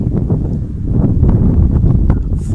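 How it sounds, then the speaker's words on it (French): Strong wind on a beach at Port-Saint-Louis-du-Rhône buffets the microphone in a continuous low rumble, loud and gusty throughout. "le vent qui souffle"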